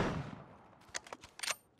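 A few sharp gunshots crack in a PUBG battle, scattered singles and quick pairs in the middle distance after a fading rumble, with no talk over them.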